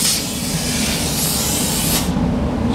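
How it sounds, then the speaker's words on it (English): A loud, close, steady hiss of rust-proofing spray from a wand applied around a car's wheel lip for about two seconds, then it cuts off, leaving a lower background rush. "Spray it all the way around that wheel lip"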